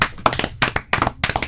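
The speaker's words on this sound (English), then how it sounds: "We have to clap." Several sharp hand claps in quick uneven bursts, loud and close, four clusters of fast claps in a second and a half with no talking.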